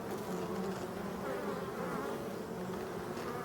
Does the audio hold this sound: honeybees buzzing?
yes